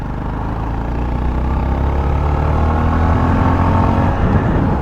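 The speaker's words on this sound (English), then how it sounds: "what you can maybe hear from my microphone is the exhaust sound" A 2025 Honda GB350S motorcycle engine rumbles steadily and loudly with a deep, throaty exhaust note, holding a constant pace while riding along.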